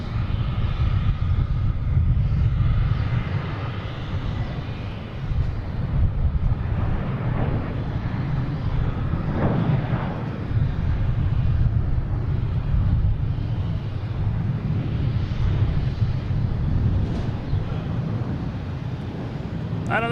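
A JetBlue jet airliner at Boston Logan International Airport, bound for Las Vegas, rumbles steadily at a distance with a low broadband engine roar and wind buffeting, lasting throughout with no voices.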